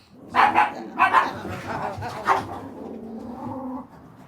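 Puppies barking indoors: a few sharp, close barks in quick pairs, followed by softer whimpering and low movement noise, with faint talk in the background.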